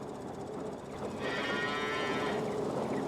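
Cows in a barn in Farming Simulator 22 let out a loud, drawn-out moo rising over a low background hum, heard close and alone with no speech.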